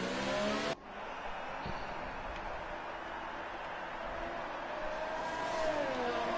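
Race cars on a formation lap at the Russian GP in a racing video game, a faint, continuous engine drone that rises slightly in pitch toward the end, after a short louder burst at the start.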